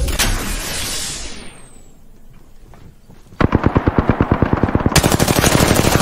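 Rapid automatic gunfire in the Apex Legends video game, loud and close, bursting in after a whooshing swell and brief lull, then continuing as dense fast volleys to the end.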